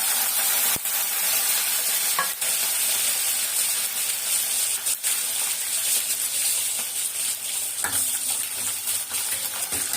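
Garlic sautéing in oil with mustard seeds, a dense, loud hiss of frying that runs unbroken, with a few sharp metallic clinks and taps of a ladle against the pan.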